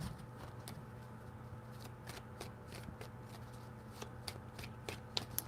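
Deck of tarot cards being shuffled by hand, a series of soft, quick riffling and flicking bursts repeating close to the listener over a faint low background hum.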